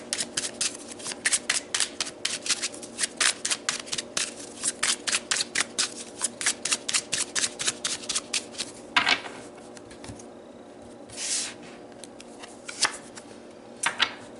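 Crystal oracle cards are shuffled in a rapid run of crisp riffling snaps, then a few cards are slid and pulled from the deck with softer rustles, all close and without talk.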